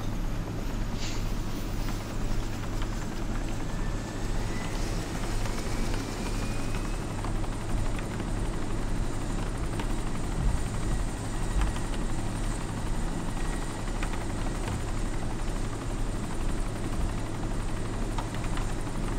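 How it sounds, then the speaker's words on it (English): Helicopter in the DayZ video game, one of a group of Hinds, a UH-60Y and a cargo chopper, its rotor giving a steady loud low thudding whir with turbine whine, unbroken for the whole stretch, no talking. "Two Hinds, a UH-16Y, cargo chopper"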